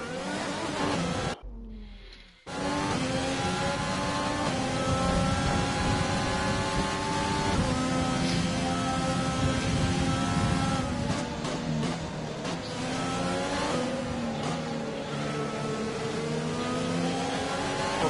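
F1 race car engine in the F1 2020 game at the Japan circuit, a loud continuous high-pitched engine whine with rising and falling revs, cut briefly by a sharp dropout early on before resuming.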